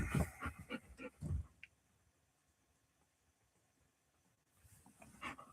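A dog pants and snuffles up close in quick, breathy bursts at the start. It then goes almost silent before softer rustling and breathing come back.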